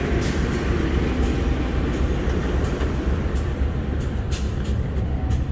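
A commuter line train at Bojonegoro railway station in Indonesia gives off a constant, loud, close rumble, with faint clicks and hiss over the steady noise.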